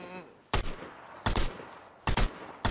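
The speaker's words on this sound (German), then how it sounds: "Ah, ich werde angeschossen." Gunfire hits the player in the video game Last Man Standing, three short sharp bursts of two or three shots each, spaced about three-quarters of a second apart, loud against a quiet background.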